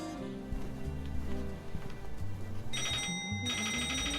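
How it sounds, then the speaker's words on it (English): A telephone rings in an audio drama, two bright electronic ring bursts near the end over a murky, muffled background with low music-like tones. "The phone was ringing as if through a thick fog."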